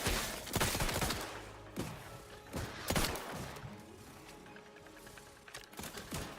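Revolver gunfire in the video game The Outer Worlds 2: several loud, sharp shots at irregular intervals, each with a short crackling tail, over a busy background of game noise with no talking.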